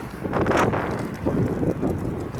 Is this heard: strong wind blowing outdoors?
yes